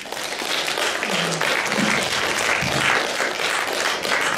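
An audience at a poetry reading applauds, a dense and loud wash of many hands clapping that holds steady throughout, with no voices standing out.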